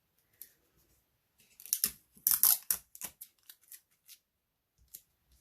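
Scissors cutting a piece of white cardstock for a handmade Stampin' Up! card, a run of close, crisp snipping cuts in quick irregular bursts, with a few isolated snips before and after.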